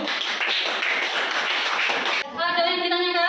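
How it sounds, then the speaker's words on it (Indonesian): A primary school class clapping hands together after a group presentation, a dense burst of many hands for about two seconds that breaks off abruptly into other sound. "Tepuk tangan dulu."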